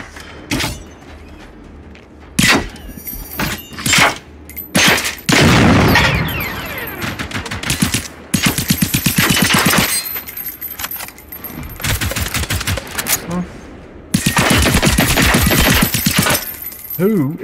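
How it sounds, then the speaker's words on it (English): Gunfire in Generation Zero: repeated loud, sharp shots and short bursts spread throughout, some fast rattling volleys, with metallic clatter and low booms between them. "Who is shooting me?"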